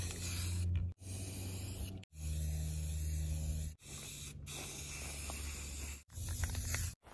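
Aerosol spray paint hissing onto wooden crate sticks in a series of long, steady bursts of about a second or more each, separated by brief pauses, close and fairly loud.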